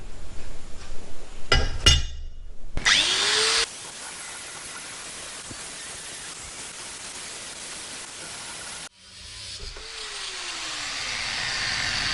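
A part of an old rusty drill press top is cut during its restoration, producing long stretches of loud, steady, hissing noise. Brief clinks and whining spin-ups come between the cuts.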